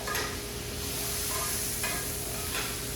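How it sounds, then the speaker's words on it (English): Lamb loin chops sizzle steadily in a hot pan while being basted, a continuous frying hiss with a few soft scraping stirs and clinks, close and alone with no talking. "I'm gonna turn the heat off and just kind of baste a little bit more."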